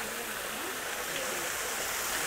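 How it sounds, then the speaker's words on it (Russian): Steady, loud rush of a waterfall tumbling into a grotto pool at Quinta da Regaleira in Sintra, a dense broadband roar that holds evenly throughout with no voices over it. "И выходим мы ровно вот к вот такому водопаду,"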